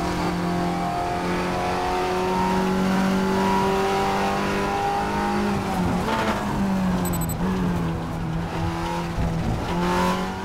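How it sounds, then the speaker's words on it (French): Race car engine in the Raceroom racing game over-revving, holding a loud, strained high-pitched whine with harmonic drone, dipping briefly and climbing again, with faint tire squeal. "Et vous voyez qu'on est en sur-régime, on est en train de faire souffrir le moteur."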